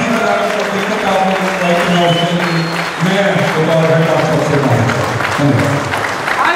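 An audience at an event honouring the founder of an organics company in Dhuri, Punjab, breaks into steady, loud applause that holds for the whole stretch, with voices and crowd murmur underneath.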